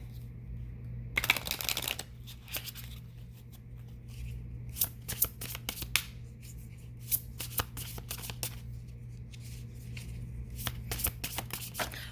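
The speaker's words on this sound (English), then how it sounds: "Let me get these cards and see what these say." Tarot cards being shuffled and handled up close, with a dense riffle burst near the start followed by irregular soft slaps and flicks of cards, quiet and with no talking.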